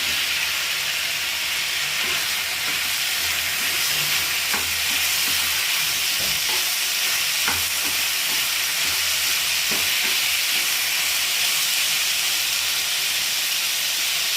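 Tomatoes fry in a pan for butter paneer masala, giving a continuous loud sizzling hiss with occasional soft scrapes and taps of stirring, close by and without talk.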